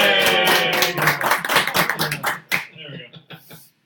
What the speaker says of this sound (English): I thought we were all clapping out for that.